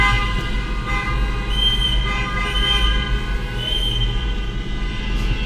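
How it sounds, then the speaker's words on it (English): A loud, sustained, steady horn blast dominates from start to finish, close and unbroken over a low rumbling engine drone, sounding like a heavy vehicle or train horn held down continuously amid traffic. "The honk on this thing must be loud."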